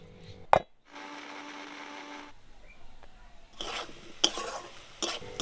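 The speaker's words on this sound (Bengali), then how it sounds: "এবার একটা কড়াইতে সর্ষের তেল দিয়ে আলুগুলোকে ভালো করে ভেজে নিন" Potatoes fry in mustard oil in a wok, with a sharp clatter, a stretch of steady sizzling, then scraping stirring strokes and spatula knocks close up.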